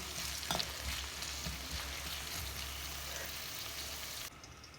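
Onions fry in a pan for a bharwa karela dish, giving a steady, fairly loud sizzle with a few stirring scrapes near the start; the sizzle drops off sharply just before the end.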